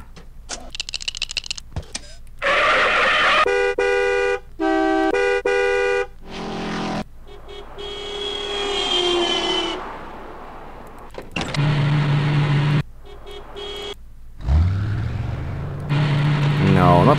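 A run of stock car sound effects from the 3D Movie Maker program plays back in quick succession: short engine and motor bursts alternate with tonal, horn-like blasts, separated by brief silences, loud and close.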